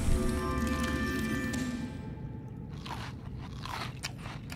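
Crunchy biting and chewing of a fish in the underwater survival game Subnautica, a dense crunch and scrape for about two seconds, then softer rustling bursts.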